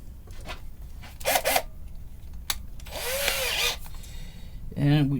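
A small power drill whirs in short bursts as a small bit drills into leather during guitar building, with brief pauses and a few handling noises between runs, close by.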